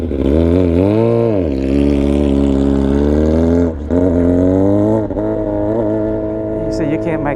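A car launching hard from a standstill in drag-race fashion, both feet down through first gear, its loud engine roaring and climbing steeply in pitch, briefly dipping at each gear change before revving up again.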